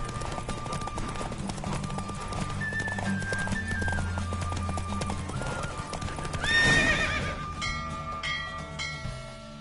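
The horse Roach gallops in a race in The Witcher 3, with steady rapid hoofbeats, a sharp whinny near the middle, and other galloping and snorting around it, moderately loud and close.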